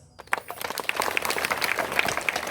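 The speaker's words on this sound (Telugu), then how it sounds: "Big claps." An audience applauds at an International Yoga Day celebration in Medchal, steady dense clapping that swells after a brief quiet start and holds for a couple of seconds.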